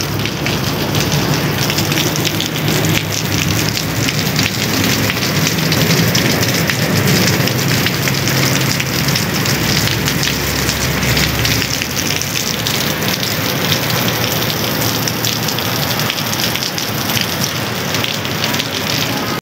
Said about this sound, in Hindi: तो ये आप देखें कितने मज़े की बारिश लगी हुई है।